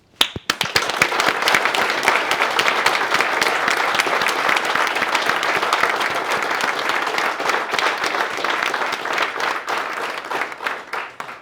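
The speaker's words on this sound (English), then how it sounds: "we send her a big, big message through this loud clap" Sustained, loud applause from an audience at a county boxing board awards breakfast, many hands clapping densely and steadily for over ten seconds before tapering off, with no talk over it.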